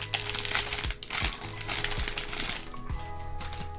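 A plain plastic bag holding a Rubik's Magic puzzle crinkles and rustles as it is handled, in bursts of sharp crackling with short pauses between them, close to the microphone and fairly quiet.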